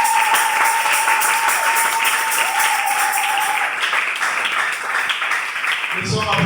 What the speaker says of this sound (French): acclamons pour le sœur